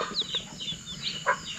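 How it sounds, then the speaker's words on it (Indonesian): Farmyard hens and young chicks clucking and peeping near a garage at a village farm, a few short, scattered high chirps and clucks at close range, fairly faint, with no talk. "untuk menurun anak ayam"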